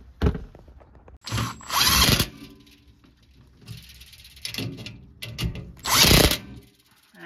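A power drill whirs in several short bursts tightening bolts on a Toyota RAV4 trunk pet barrier shelf, revving up and stopping with brief ratcheting pauses between, close and fairly loud, no talking.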